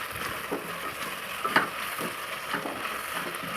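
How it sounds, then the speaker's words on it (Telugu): Green peas coated in ginger garlic paste fry in oil while being stirred, a low continuous sizzle broken by scraping clicks of a spoon against the pan, moderately close. "ఇంకా మొత్తం కలిసి అల్లం వెల్లుల్లి పేస్ట్ వేసిన పచ్చి బఠానీలు అవన్నీ కూడా మొత్తం నూనెలో కొంచెం ఫ్రై అయ్యేంత వరకు ఇలా కలుపుకుంటూ ఫ్రై చేసుకోవాలి"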